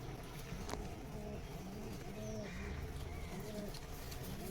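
Frightened pigeons coo in repeated soft, low warbling phrases against a steady background hum, fairly faint and close by.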